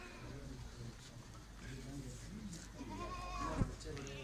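Goats bleat intermittently at a goat farm in Pakistan, a few scattered calls at moderate distance under a steady murmur of talk and background bustle.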